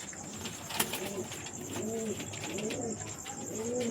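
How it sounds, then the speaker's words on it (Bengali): A pair of pigeons cooing nearby, several soft rolling coos repeating at a steady pace over faint background hiss, with no talking. "পায়রা দুটো আমি দেখাচ্ছি, দেখো একটু ভালো করে"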